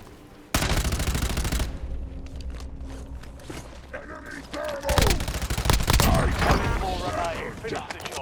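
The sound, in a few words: gunfire in the video game Call of Duty Warzone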